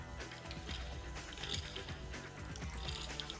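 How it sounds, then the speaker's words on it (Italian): Excess water from ice chilling a cocktail mixing glass is strained out, a faint close pouring trickle of liquid splashing with light clinks of ice. "Filtro l'acqua in eccesso"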